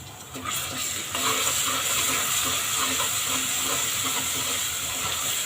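Ginger garlic paste and a pinch of asafoetida sauté in a pan with browned onions. A dense, continuous hissing sizzle holds steady throughout, with faint scraping underneath.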